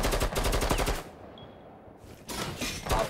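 Rapid automatic gunfire in Rainbow Six Siege, a loud close burst that stops for about a second, then resumes in another dense burst.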